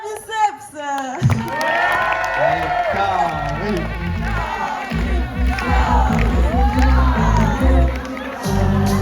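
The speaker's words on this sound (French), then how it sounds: "Veuillez accueillir sous un tonnerre d'applaudissements, Monsieur Bière Biceps." A crowd at a comedy show cheers and roars loudly after a sharp opening burst, a dense wash of shouting and whoops holding steady for several seconds with voices mixed in.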